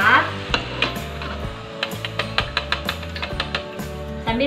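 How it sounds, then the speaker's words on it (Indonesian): Cireng, stuffed tapioca snacks, fry in hot oil with a steady sizzle, while a utensil stirs and clinks against the pan in a quick, irregular rhythm, close and loud. "Sambil kita goreng lagi cirengnya."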